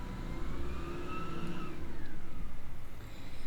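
Recycling truck in front of a house, its engine droning and surging with a rising whine as it works nearby, loud and continuous without anyone speaking.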